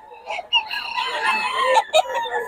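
Rooster crowing up close and loud among fighting fowl in Bocaue, a long strained crow with brief breaks and clucks mixed in.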